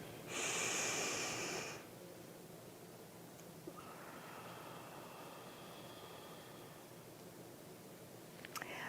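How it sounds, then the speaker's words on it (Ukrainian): Breathing exercise done only through the nose: one strong, airy inhale near the start, then a long held pause with a faint, steady exhale in a quiet room. "ми дихаємо тільки носом, затримуємо дихання, видихаємо, затримуємо дихання"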